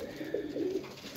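Teddy pigeons coo softly in a short, low, rounded call, close and fairly faint against a quiet background.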